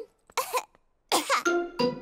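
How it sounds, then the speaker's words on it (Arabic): A cartoon character, Pedro Pony in Peppa Pig, gives a few loud, close coughing bursts separated by short pauses, ending in a rough throaty sound. "كما ظننت، سعال بيدرو معد حقاً"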